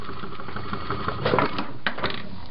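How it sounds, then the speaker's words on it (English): Hand-sewing fabric pieces onto a foam pad cover for a cargo bike seat, with faint rustling cloth and light tapping clicks of needle and thread, close and quiet, no talk. "I'm just gonna sit down here and baste these on, which basically means just to kind of sew them on"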